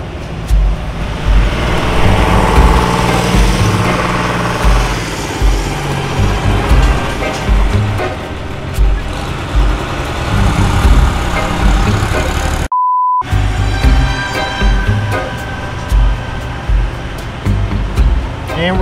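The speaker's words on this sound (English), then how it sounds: "let's just run a tractor right by my camera and microphone" A tractor engine rumbles loudly close by as it drives past, with heavy low-end chugging, mechanical clatter and a short bleeped gap partway through; a voice is faintly audible in the mix.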